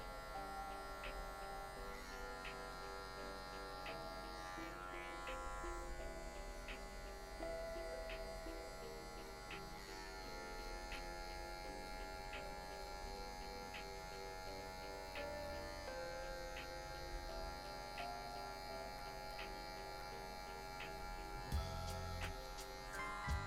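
Electric hair clipper buzzing steadily as it trims a fade into very straight hair, using just the corner of the blade on darker patches; a continuous close hum with faint pitch shifts throughout, no talking.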